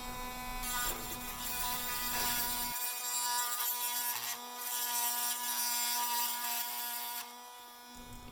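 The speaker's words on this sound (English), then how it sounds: "We'll take a burr tool on my Dremel and flatten out the post and clean it up" A Dremel rotary tool with a burr bit grinds down the metal post on a die-cast Hot Wheels Pontiac Fiero, a steady high-pitched whine with rasping grinding passes, fairly quiet and close, with no talk.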